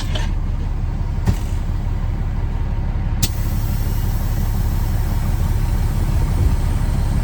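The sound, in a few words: Peterbilt 379 truck driving with 18-speed gear shifting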